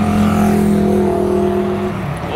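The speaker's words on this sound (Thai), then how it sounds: "ตอนนี้ในกรุงเทพรถเยอะมากแล้ว" Dense road traffic on a busy Bangkok street, with loud engines droning close by and vehicles rolling past in a continuous roar.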